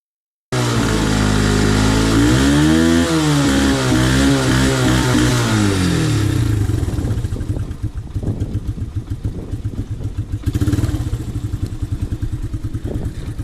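A 1988 Honda TRX 125 ATV engine cold-starts with a loud, close rev that rises and falls, then settles into a steady, rapidly pulsing idle with a brief blip near the end.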